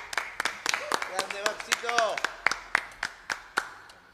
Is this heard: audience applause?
yes